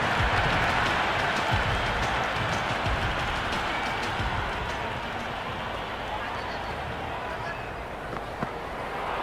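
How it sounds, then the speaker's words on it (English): Stadium crowd roaring in the Cricket 26 video game during a Peshawar Zalmi vs Multan Sultans PSL match, a broad steady cheering wash that slowly fades, with a commentator's voice over it. "The crowd are loving it."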